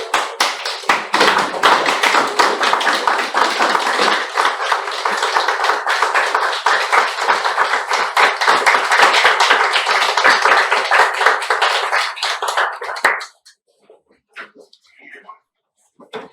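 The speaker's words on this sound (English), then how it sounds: "I'd like to request everybody please stand up and give him a huge round of applause" A standing audience at a Toastmasters club meeting gives a loud round of applause, dense clapping sustained for about thirteen seconds before stopping abruptly, followed by faint scattered sounds.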